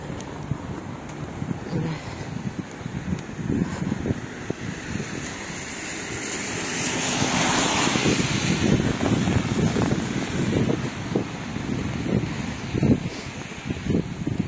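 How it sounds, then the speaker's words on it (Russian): Wind gusts across an open street in Odesa in November, a steady broadband rush with low rumble that swells noticeably around the middle and stays strong to the end. "вот сейчас ветер поднялся"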